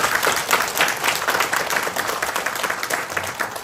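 Audience applause at a Korean New Year special lecture for the unification advisory council in Jeju, a steady dense clapping that fills the whole stretch without any voices.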